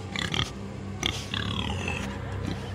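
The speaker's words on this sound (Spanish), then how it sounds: "Entonces, volví a escuchar otra vez ese horrible ruido de cerdo." Pig grunts heard in bursts, loud and close, several rough snorting grunts spread over a few seconds with low rumbling noise behind them.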